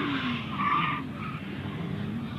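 Powerful car with a six-cylinder Toyota Supra engine oversteers, and its tires skid and squeal in a sharp, wavering screech over a steady engine roar. The screech peaks in the first second, then eases into continuing tire noise.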